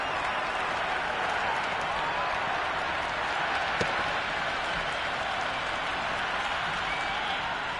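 Cricket crowd in the Cricket 26 video game applauding on day one of a match, a steady, dense wash of clapping and crowd noise held throughout at even loudness.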